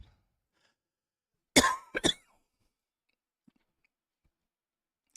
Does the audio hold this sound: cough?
yes